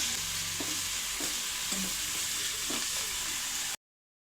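Masala with ginger garlic paste sizzles in a pan while being stirred for masala aloo bonda, with soft rhythmic scrapes over the frying hiss before it cuts to silence.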